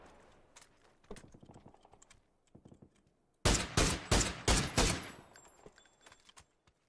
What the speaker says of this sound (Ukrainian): А, він з кимось стріляє.